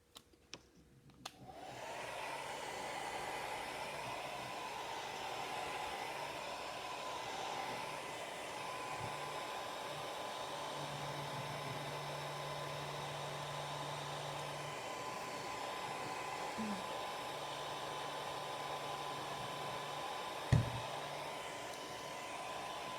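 A hair dryer runs steadily for about twenty seconds, drying chalk paste on a floral craft project, a loud continuous whooshing hum that starts abruptly after a brief click, with a short thump near the end.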